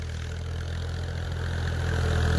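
A tractor engine runs in a field, a steady low idling rumble that grows slightly louder toward the end, nearby and alone without speech.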